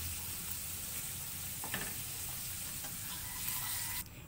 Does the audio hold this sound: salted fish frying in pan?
yes